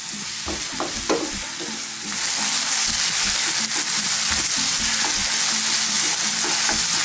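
Goat meat frying in a pan over medium-high heat while being stirred: loud continuous sizzle that swells after a couple of seconds, with spatula scrapes and clacks near the start, no voices.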